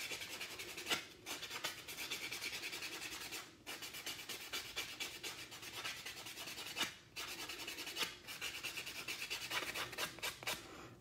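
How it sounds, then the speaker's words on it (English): Dip-powder nails being filed and buffed with a nail file, a steady close-up rasping and rubbing that runs continuously with brief pauses between strokes, no talking. "now that we have filed and buffed the nails"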